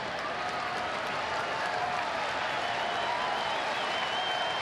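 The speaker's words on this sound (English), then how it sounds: "I think that's why the crowd's cheering" A large baseball stadium crowd cheers and applauds in a steady, dense roar that holds loud and even throughout, with no individual voices standing out.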